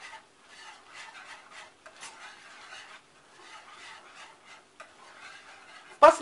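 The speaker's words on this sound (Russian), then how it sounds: "И добавляем пару щепоток мускатного ореха. И опять перемешиваем." A spoon stirs cheese sauce for cauliflower after a couple of pinches of nutmeg, making soft, rhythmic rasping scrapes against the pan that repeat steadily, ending in a sudden louder clack.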